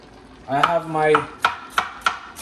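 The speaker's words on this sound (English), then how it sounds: "I'm gonna be slicing it. Slicing all my veggies." A knife slices through an onion during meal prep, landing four or five sharp, evenly spaced cuts on a board after a brief voiced sound at the start.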